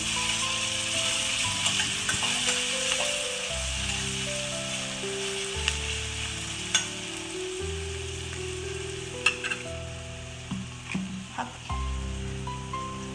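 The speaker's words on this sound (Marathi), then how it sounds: "व्यवस्थित हे आपल्याला मिक्स करून घ्यायचं आहे" Chopped onion and tomato sizzle steadily in oil in a pan while being stirred, a continuous close frying hiss with scattered scrapes and light clinks from the spoon, and a low tonal hum underneath.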